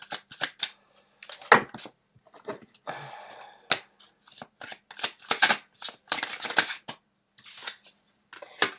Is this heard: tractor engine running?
no